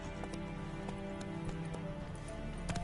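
Roach the horse gallops in The Witcher 3, with quiet, regular hoofbeats under a steady background hum and game music.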